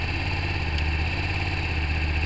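Hyosung GT250 motorcycle engine idling with an intermittent falter fault, a close, steady, loud low throb with one brief click near the start.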